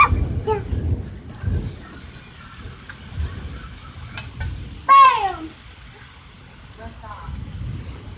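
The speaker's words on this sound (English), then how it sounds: "it's raining pretty hard right now" Heavy rain pours steadily during a storm following a tornado, a dense hiss with swelling gusts and a brief high chirping cry partway through.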